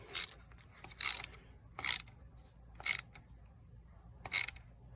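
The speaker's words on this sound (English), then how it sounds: "Put my wrench back on there. Then I'm just gonna snug them up." Ratchet wrench snugging hand-tightened bolts on a Chevy HHR, heard as five short separate bursts of clicking spaced about a second apart, fairly close with quiet gaps between.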